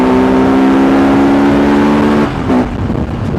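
A Bajaj Pulsar RS 200 motorcycle engine roars steadily at high revs with a strong droning tone, then drops off and sputters briefly near the end.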